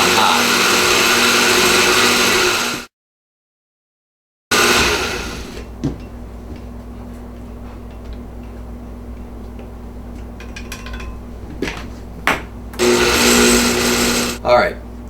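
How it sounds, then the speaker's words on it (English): A blender whirs loudly at high speed, blending jalapeño cream cheese dip, stops abruptly into silence, then starts again in bursts with clatter and a voice in between. "keep the blender going until this turns into liquid"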